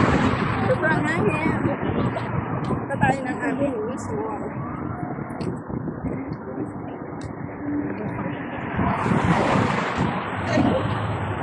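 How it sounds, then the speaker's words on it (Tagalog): Strong wind buffets the microphone in loud, rumbling gusts while people talk and shout underneath. "Hangin guys, sobrang hangin."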